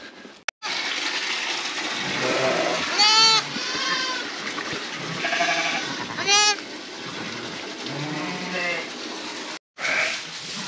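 A flock of sheep bleating on a Lithuanian farm in winter, several wavering bleats from different animals spread across the clip, close and loud, with people talking among them.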